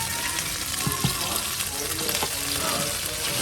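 Tomatoes sizzling in olive oil in a pan. The frying is loud and constant, with a few sharp clicks and taps of utensils against the pan.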